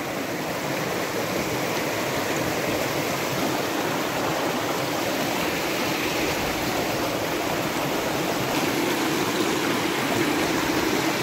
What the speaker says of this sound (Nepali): यो खोला तर्नु पर्ने रहेछ